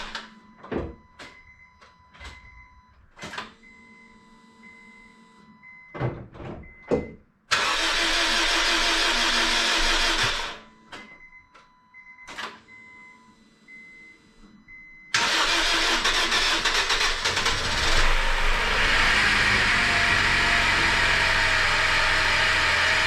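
A Honda Civic LX engine, freshly overhauled and refuelled, cranks and fires into a loud, steady idle nearby, after several short door or latch clunks, with a second start later settling into a sustained idle.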